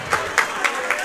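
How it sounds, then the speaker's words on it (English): An audience applauding at a Super Smash Bros. Wii U doubles tournament finals in a big room, a short burst of steady crowd clapping with soft chatter underneath. "Everyone in the room, big room, seems to be watching these finals matches and applauding Larry for that win."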